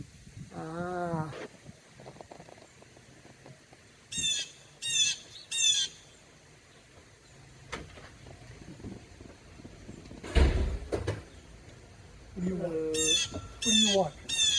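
A noisy bird calls loudly from a tree outside a house, letting out repeated harsh squawks in short bursts separated by quieter gaps, with a person talking briefly in between.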